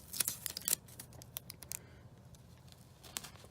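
Adhesive tape is pulled and pressed onto overlapping paper pieces for a collage, producing faint, close crinkles, sticky tearing and small taps in quiet surroundings.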